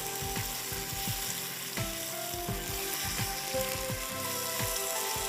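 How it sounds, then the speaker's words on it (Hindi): Cooked spaghetti being tossed and stirred with olive oil in a hot pan: a steady oily sizzle with repeated scraping and clinking of a utensil against the pan at an irregular rhythm, close up and without talk. "अच्छी तरह ऑलिव ऑयल के साथ पास्ता को मिक्स करिएगा"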